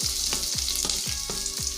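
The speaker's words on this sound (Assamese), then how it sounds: "পিঁয়াজটো আগতে ভাজি ল'ম, অকণমান ভাজিবলৈ কৈছিলোঁ।" Onions sizzle in hot oil with a continuous hiss, close by, broken by regular stirring scrapes about every quarter second.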